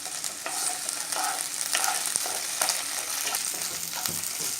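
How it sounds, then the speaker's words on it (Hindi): Ginger-garlic paste fries in hot oil for chicken changezi while being stirred: a continuous close sizzle broken by repeated scraping strokes of the spoon against the pan. "अब हम इसमें डालेंगे अदरक और लहसुन की पेस्ट और इसको हमें चलाते हुए तब तक के फ्राई कर लेना है।"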